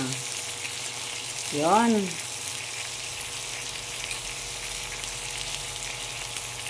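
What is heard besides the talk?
salmon fish frying in a pan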